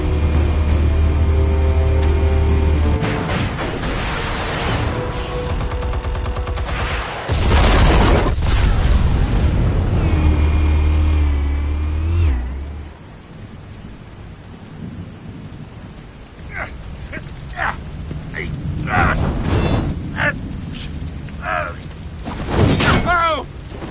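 Video game explosives detonating in Batman Telltale, heavy booming blasts with rumbling low-end over several seconds, then scattered crashes and debris impacts as voices talk.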